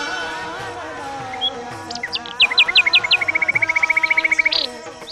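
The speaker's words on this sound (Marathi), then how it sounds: "त्यात पक्ष्यांचा किलकिलात ऐकायला मिळतो" Birds chirp and trill near a large shrine at Sant Gajanan Maharaj's birthplace in Thal, with a long run of rapid, evenly spaced tweets over softer background calls, fairly loud and close.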